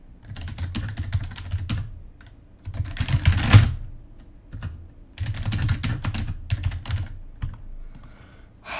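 Fast, uneven typing on a computer keyboard during a livestream, with dense clusters of clicking keystrokes close to the microphone, loud and continuous, broken by a few brief pauses.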